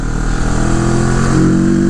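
Loud, close engine drone from a CFMOTO motorcycle under way, a steady rumbling tone that rises slightly in pitch as it accelerates, with no talk.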